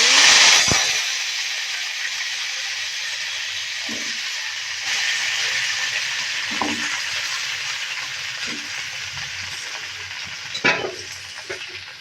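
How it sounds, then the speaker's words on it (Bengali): Cauliflower florets fry in hot oil in a wok, giving a steady, close sizzling hiss with faint scraping and stirring clinks throughout. A brief louder crackle comes near the start. "তো আমি কড়াইতে তেল দিয়ে দিয়েছি এখন দিয়ে দিচ্ছি ফুলকপি"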